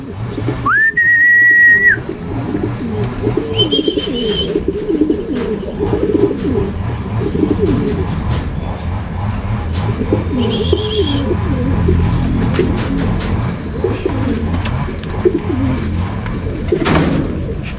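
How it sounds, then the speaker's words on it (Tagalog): Pigeons coo repeatedly at a loft landing board in soft, rolling bursts, with a few sharp whistles over the top. The sounds come from close by and continue throughout. "eto na anak ni Lap Champion mga kalapatids. Yun. Yun, landing board, good job"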